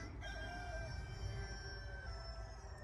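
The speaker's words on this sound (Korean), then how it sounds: "저는 닭이 새벽에만 우는 줄 알았는데 시도 때도 없이 울어요." A rooster crows in one long, drawn-out call that sounds fairly distant and quiet, carrying over low steady background noise at a rural countryside studio.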